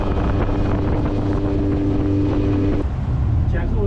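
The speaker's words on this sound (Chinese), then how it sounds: "这个船开起来很舒服啊，在这个河上面跑得很舒服，风很大" A motorboat cruises along a river lined with mangroves, its engine a steady low drone under heavy wind buffeting the microphone throughout.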